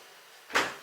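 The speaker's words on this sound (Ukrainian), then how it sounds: "А чого ти двері закриваєш?" A door swings shut indoors, giving one soft, brief swoosh and thud after a quiet moment of low room noise.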